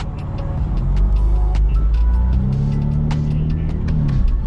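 A straight-piped BMW M4 Competition engine drones loudly and steadily close by, its exhaust note rising as it accelerates, with no talking.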